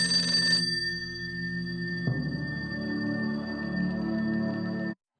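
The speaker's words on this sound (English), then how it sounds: "the ring from this phone welcomes Diane to Hollywood" A telephone rings in a scene from Mulholland Drive, a steady electronic tone with sustained pitched bands. A lower humming layer joins partway through, and the sound cuts off abruptly near the end.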